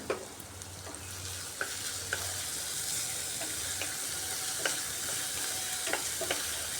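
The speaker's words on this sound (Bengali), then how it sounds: "এইভাবে বারবার নাড়িয়ে পেঁয়াজটাকে আমি ভেজে নিচ্ছি" Onions frying in a pan for spiced potato rice, a steady close sizzle broken by repeated scraping strokes of a spatula as they are stirred, with no talk.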